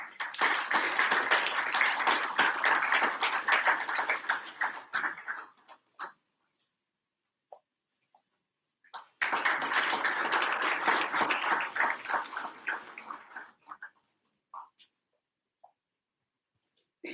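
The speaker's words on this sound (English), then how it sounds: "Guys, a huge round of applause for the panelists." Listeners applaud panelists at an industry advisory board panel discussion, two separate bursts of dense clapping, each lasting several seconds and tapering off into near silence between them.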